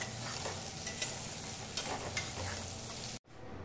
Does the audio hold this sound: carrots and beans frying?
yes